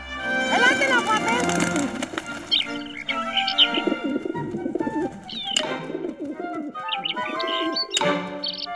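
Cartoon birds coo and chirp excitedly while being fed seeds in a Mickey Mouse short, a busy overlapping flurry of calls with brief wing flaps, under and between Greek dialogue and music.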